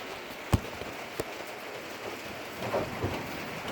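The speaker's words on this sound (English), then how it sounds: "So it's raining out." Steady rain patters outside a shed, a soft continuous hiss with a couple of faint distant knocks.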